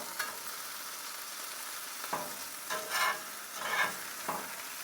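A creamed mushroom and spinach quesadilla sizzles steadily in a hot pan, with a few soft thumps and swells of frying as it is flipped and pressed down.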